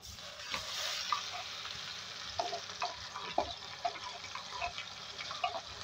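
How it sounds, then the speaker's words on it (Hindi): Mixed vegetables frying in a pan for a home-style mix sabzi, a steady soft sizzle with scattered clinks and scrapes of stirring, moderately quiet and without talk. "फ्राई कर लेंगे।"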